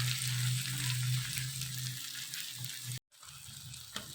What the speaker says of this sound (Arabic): نفضل نقلب القوانص مع البصل